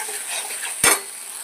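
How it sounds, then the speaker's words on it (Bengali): Green chilli and poppy seed paste frying in a pan, a steady soft sizzle with one brief louder stir or scrape of a spoon midway. "কাঁচা লঙ্কা পোস্ত বাটা দিয়ে দিচ্ছি, একটু কষিয়ে নেব।"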